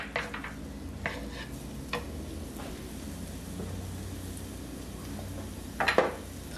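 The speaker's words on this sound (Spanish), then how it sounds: "Vamos a sofreír." Leek or scallion stir-frying in hot oil gives a steady, close sizzle, broken by a few sharp utensil scrapes and clinks against the pan near the start and end. No one speaks.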